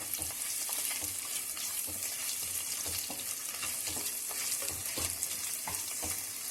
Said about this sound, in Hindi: मैंने एक बड़ी प्याज को स्लाइस करके रखा हुआ है, उसको मैं इसमें डाल रही हूँ, और इसको हम थोड़ा सा फ्राई करेंगे